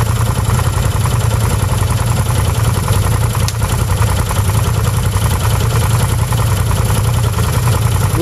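A quad bike engine runs steadily throughout, a loud continuous idle-like drone with a strong low rumble and no pauses.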